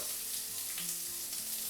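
Marinated prawns seasoned with turmeric, pepper and paprika sauté in a hot pan, giving a steady, close, even sizzle throughout with no talking.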